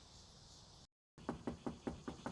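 FEMA representatives knock on a residential door in St. Clair County's Metro East during damage assessments. After a brief silence, about seven sharp, evenly spaced raps sound close by over faint background hiss.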